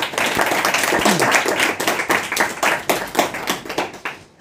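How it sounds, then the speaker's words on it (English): Students at a Quran memorization competition clap for a guest, a close, uneven burst of separate hand claps that thins out toward the end. "I would like to request all the students to give a big clap for him for his presence"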